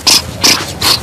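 A dog gives three short, loud, evenly spaced barks or yelps, close by, with no talk over them.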